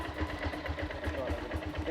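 A motorcycle engine idles at a campsite by Thokarwadi Dam to power camp lights, a low, steady pulsing rumble at moderate distance.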